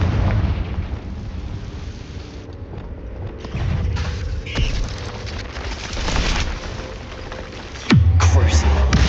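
A Confringo fire spell detonates in Hogwarts Legacy, with rumbling blasts and crackling bursts over a busy battle, ending in a sharp loud boom and a deep sustained roar.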